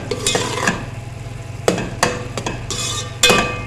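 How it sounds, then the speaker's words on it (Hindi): Cooked rice and soft carrots for gajrela are stirred in a pan, giving several distinct scraping and clinking strokes of a spoon against metal over a low simmer, close and fairly loud. "इसको ज़रा अच्छे से मिक्स करेंगे"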